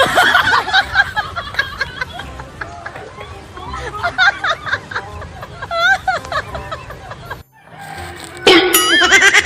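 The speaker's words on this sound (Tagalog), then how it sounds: "Manok mo ni Gigi oh." Roosters crow repeatedly amid a lively crowd of voices, laughter and chatter, the calls rising over the babble and loudest near the end.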